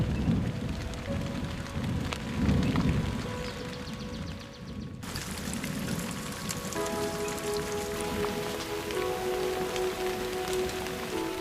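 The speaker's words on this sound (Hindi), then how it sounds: "बारिश हमेशा अपने साथ राहत लाती है और नई जिंदगी भी।" Steady, heavy rain falls on surfaces throughout, with deep low rumbles that suggest thunder. The sound is close and continuous, and no voices are heard.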